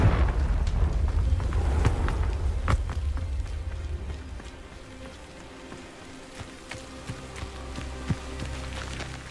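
A Confringo fire spell blast in Hogwarts Legacy erupts with a loud, rumbling burst at the start, then fades into crackling debris and scattered sharp pops.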